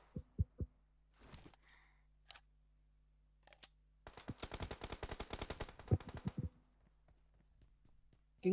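PUBG Mobile or Free Fire gunshots, first a few isolated sharp cracks, then a rapid burst of automatic fire lasting about two seconds, clean and close against a quiet background.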